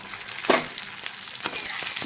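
Mustard and poppy seed paste poured into a pan of frying tomato and poppy seeds, giving a steady close sizzle with a few soft splatter bursts and stirring sounds.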